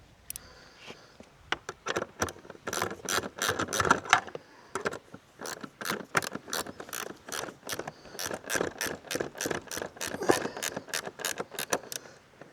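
Rapid ratchet clicks tightening a nylon lock nut while fitting a Puig touring screen to an R1250 GS Adventure motorcycle, steady bursts of sharp pawl ticks repeating over several seconds, close by.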